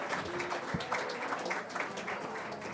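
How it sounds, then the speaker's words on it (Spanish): Audience applause for the speakers at a panel discussion, a moderately loud, steady patter of many hands clapping at once, filling the room without any voice on top. "también un aplauso para"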